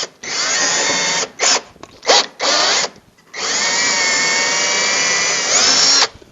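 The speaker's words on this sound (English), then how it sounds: "I can get my drill, and I'll just do a quick pilot hole." A cordless drill boring a quick pilot hole into a wooden board for a workbench upgrade, several short whirring bursts followed by one long steady run, loud and close with no talking.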